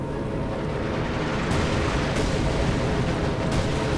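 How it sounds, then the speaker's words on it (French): Artillery barrage in Company of Heroes 2, an Allied 2v2 match on the Lierneux map: a dense, continuous roar of rumbling explosions with a few sharper blasts standing out, loud and without speech. "J'arrive à balancer le barrage d'artillerie."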